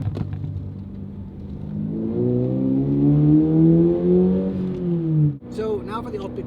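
A Subaru BRZ fitted with an axle-back exhaust accelerates, its engine note climbing steadily in pitch for a few seconds before a quick lift-off and a short burble as it revs again nearby.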